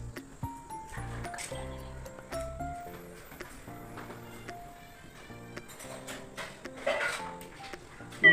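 A spatula stirring and scraping in a cooking pan of coconut oil while making rava chapati and green gram curry, with light irregular clinks and scrapes over quiet background music.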